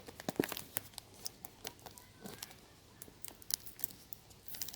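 A taped clear plastic winter sowing container is pried open close by, with sharp crinkling and tearing bursts of packing tape and plastic in irregular spurts between quiet pauses.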